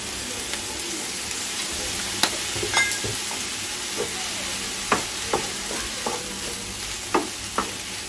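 Nasi goreng sizzles steadily in a pan with soy sauce, a continuous frying hiss broken by scattered clinks and scrapes of a utensil stirring the fried rice.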